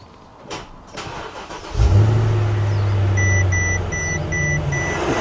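A 2008 Designo Mercedes CL550 engine cranks and catches, then settles into a steady, close idle with a low hum and a series of short electronic beeps.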